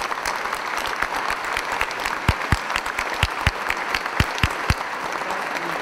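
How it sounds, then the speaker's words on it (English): An audience at Independence Day speeches applauds steadily, a dense, continuous wash of clapping with sharper individual claps popping out close by, with no talk over it. "give a big round of applause to our Congress"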